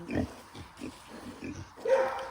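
Backyard pigs being fed watermelon rinds grunt in a series of short, low snorts, close by and moderately loud, with a higher squeal toward the end.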